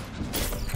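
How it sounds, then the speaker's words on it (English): Weapon reload in the tactical shooter Valorant, a brief mechanical clack and creaking metal slide lasting under a second, close and moderately loud. "Reloading."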